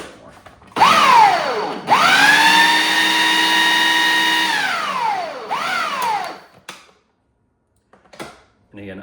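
A Ninja Kitchen food processor pulses basil pesto in three loud whirring bursts, each motor spinning up to a steady high whine and winding down, followed by brief clatter and near silence.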